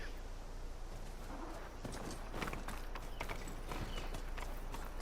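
In Horizon Forbidden West, a ridden horse's hooves clop in a quick trotting rhythm over steady game ambience, with no voices heard.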